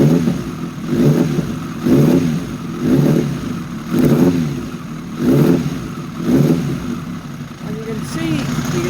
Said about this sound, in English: I'll just rev it a wee bit.